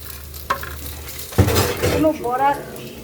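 Koi fish frying in hot oil in a home kitchen, a continuous sizzle with a sharp clink of a utensil on the pan and a heavier clatter partway through, and a voice speaking over the cooking.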